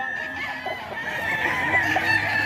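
Many White Kelso chickens cluck and squawk together in a busy, continuous chorus with a crowing note now and then. The birds sound moderately close and fill the whole stretch with overlapping calls.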